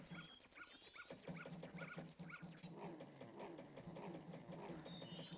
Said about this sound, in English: Dog doesn't seem to like us very much, at least not as a Deku scrub.